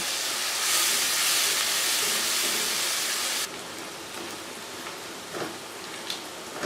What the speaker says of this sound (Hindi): तो अब हम इसको अच्छे से भून लेंगे, प्याज को अच्छे से फ्राई करेंगे।